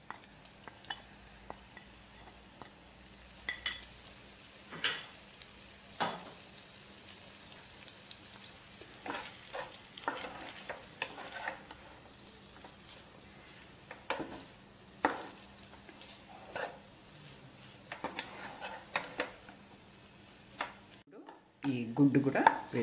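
Egg macaroni frying in a pan with garam masala and spring onion, a quiet continuous sizzle broken by scattered utensil scrapes and taps, growing busier and louder near the end, with no talking.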